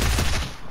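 Rapid video game gunfire, a burst of close shots with a fast, dense rhythm that thins out toward the end of the brief moment.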